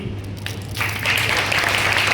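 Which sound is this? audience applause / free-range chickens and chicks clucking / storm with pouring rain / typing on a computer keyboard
audience applause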